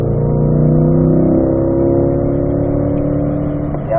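A Corvette accelerates hard in fourth gear on a driving course, its engine a loud, steady, close roar that rises gradually in pitch with no talking.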